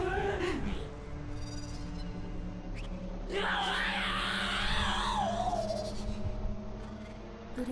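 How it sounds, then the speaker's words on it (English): Strange, drawn-out scream from the character Bloodworth in the video game Fuga 3, a loud wavering cry rising over a low rumbling game soundtrack for several seconds. "Light streaked across the surface of the Gargantua as Bloodworth let out his strange scream."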